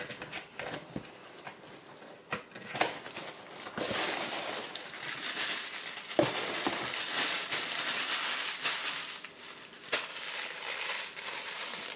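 Packing paper crinkles and crumples during an unboxing of a crankshaft kit, an irregular crackling rustle with sharper crunches and taps, close and continuous over several seconds.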